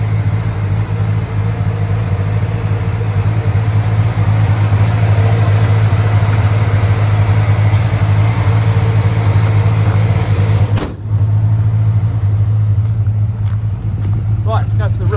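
A 1970 Oldsmobile Delta 88 convertible with a 468ci (7.7L) V8 and automatic transmission idles with a steady, loud, low rumble up close, continuing throughout with a brief dip near the end.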